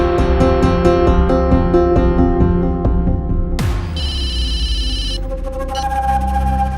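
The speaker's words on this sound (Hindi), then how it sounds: "किसी का कॉल आ रहा है मुझे" A telephone rings loudly and close with an incoming call, sounding a repeated ringing pattern that then shifts into an electronic ringtone, with no voices over it.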